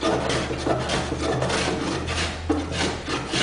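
A hand plane shaves a wooden furniture leg in close, repeated rasping strokes, each a coarse scraping swish that rises and falls in quick succession with no talking.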